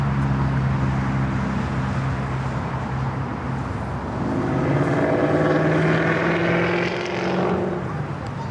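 A jet airliner at LAX airport, a loud, continuous roar with rising and falling engine tones that swells in the middle and holds steady to the end, with no talk over it.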